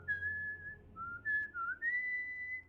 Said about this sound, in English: you just hear me whistling. Just a cheery little tune